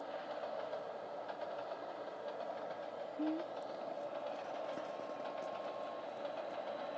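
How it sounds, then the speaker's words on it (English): A maglev train in the Trainz Simulator 2 rail game glides past as a steady, even mechanical hum and rumble, with a brief rising whine in the middle and no speech. "There's the maglev."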